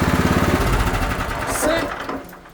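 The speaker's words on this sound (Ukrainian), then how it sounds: "Круто працює двигун." Weima WM1100F-6 walk-behind tractor engine running in neutral, a steady close mechanical drone with a pulsing low rumble that holds throughout, with people talking nearby.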